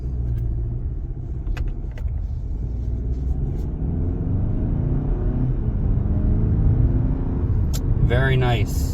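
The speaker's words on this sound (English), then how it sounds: "It's a bit of an uphill. We'll see how the acceleration is." A Hyundai Santa Fe Urban accelerates up a slight hill, its engine a steady low cabin rumble heard from inside, with a voice talking over it near the end.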